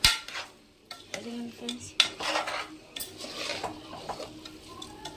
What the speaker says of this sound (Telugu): ఇదిగోండి ఇలా ఫ్రై చేసుకోవాలి బియ్యం వేసుకున్న తర్వాత.